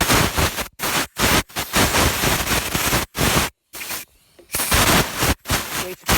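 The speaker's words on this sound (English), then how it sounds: "get an air chuck with a nice thin compression and a little nozzle here, and I'm just going to blow it out" Compressed air blasts from a thin air chuck nozzle in loud, hissing bursts of varying length, close by, separated by brief silences.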